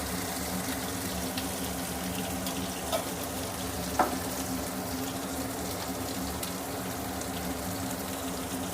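Garlic, curry leaves and coriander fry in oil for a prawn masala curry, a steady dense sizzle running throughout with a couple of faint clicks near the middle.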